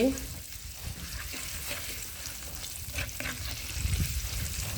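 Beans with pork stir-fried in a pan, steady sizzling and frying with occasional stirring scrapes, moderately close, continuing throughout.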